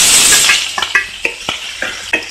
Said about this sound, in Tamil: இதை வதக்கிக்கோங்க.